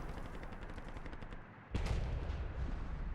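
Tank cannon fire and gunshots in a combat video game, a dense barrage of shots with a sharp loud blast partway through, continuing without pause.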